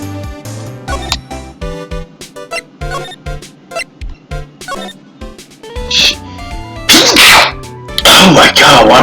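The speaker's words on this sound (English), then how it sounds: "why am I sneezing so much?" A person sneezes several times over a busy backdrop of game music and sound effects, the sneezes bursting out loud near the end.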